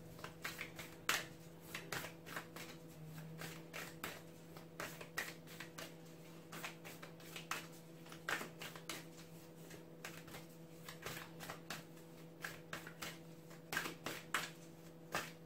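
Tarot cards being shuffled by hand during a reading, heard as faint, quick papery riffles and soft clicks repeating over a steady low background hum, with no talking.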